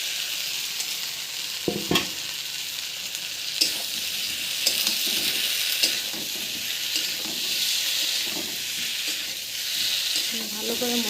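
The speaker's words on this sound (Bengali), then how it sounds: "দেখো ভালো করে কষিয়ে নিচ্ছি মশলা দিয়ে আলুটা" Potatoes frying and being stirred with spices in oil in a pan, a steady loud sizzle with occasional scraping and stirring knocks, no talk.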